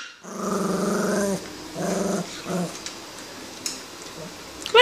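A dog growls low and hard in several rough bursts, pausing between them, then a few faint clicks and rustles follow.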